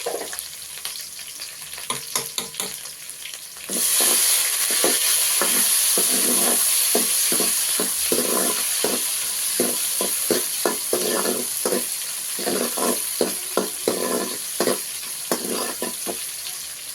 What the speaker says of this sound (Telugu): వెల్లుల్లి బాగా కాగాలండి బాగా కాలితేనే మంచి స్మెల్ వస్తుంది